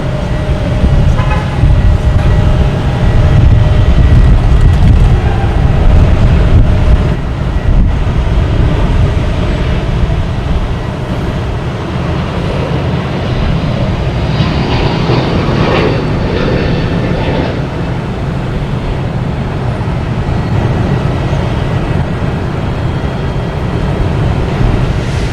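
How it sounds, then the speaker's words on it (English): A Delta Airbus A321neo jet takes off from Boston Logan Airport, a loud, sustained broadband engine roar that stays strong throughout and eases slightly after the first few seconds, with no talking. "We have Delta taking off to Las Vegas, an A321neo flight 373."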